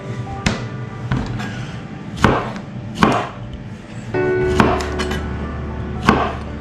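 A knife chopping through a lime on a cutting board in a home kitchen, with sharp, evenly spaced thuds and taps, close and clear, followed by a steady low hum in the background.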